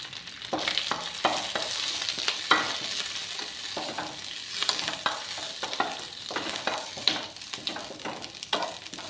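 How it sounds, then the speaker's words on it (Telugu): Curry leaves and drumstick leaves fry in a pan on low heat, a continuous sizzle broken by repeated scraping strokes of a stirring spoon. "కరివేపాకు కూడా వేసేసుకోవాలి. మంచిగా సిమ్లో పెట్టుకొని బాగా వేయించుకోవాలి."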